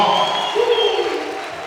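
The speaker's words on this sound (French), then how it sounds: "Est-ce qu'on peut l'encourager avec les acclamations?" A crowd at a team welcome rally and recognition ceremony cheers and claps steadily, a dense wash of applause and shouts with no clear speech over it.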